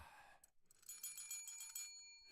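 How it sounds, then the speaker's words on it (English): A bell rings with bright, sustained metallic tones shimmering for over a second after a brief pause. It is moderately loud and heard alone. "Let's ring the bell, baby"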